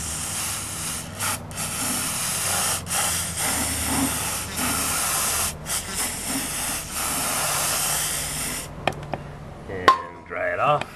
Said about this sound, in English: I'm going to spray down the diffie now, make sure I get the rebuilt diffie.